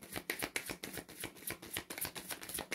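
A tarot deck handled and shuffled up close: a rapid, steady run of crisp card flicks and riffles, loud and continuous, with no voices.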